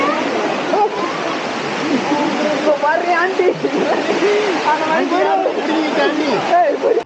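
Aare waterfall at Nagalapuram in Andhra Pradesh gives a steady, close, broadband rush of falling water. People talk over the constant roar.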